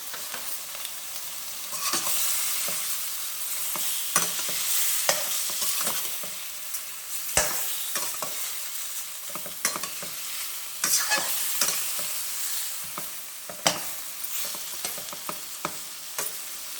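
Prawn gravy in a pan sizzles steadily while a spoon stirs it, scraping and clinking in irregular bursts over the constant frying hiss, close and clear, with no talking.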